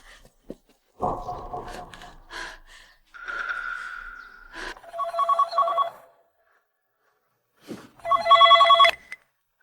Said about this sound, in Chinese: 妈立刻给陈渊打电话。